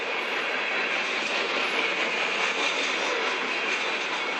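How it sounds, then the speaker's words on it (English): Steel train wheels roll on rails on the prairies, a steady, loud metallic roar with a high singing whine that runs without break. "It's the metal on metal rolling sound."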